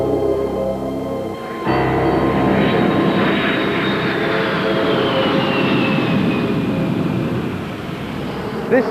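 A military attack aircraft roars loud and steady overhead, its jet engine noise swelling in with a whining tone that sweeps slowly downward as it passes.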